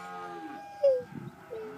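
A Brangus heifer, one of a group of heifer pairs, lets out a single short moo at moderate distance, with faint low rumbling from other cattle around it.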